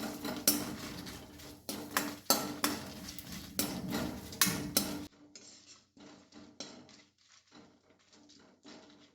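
Cumin seeds dry-roasting on a low flame, stirred in a pan for katsaru: irregular metallic clinks and scrapes of a spoon against the pan, louder and busier at first, then quieter and sparser, close by with no talking.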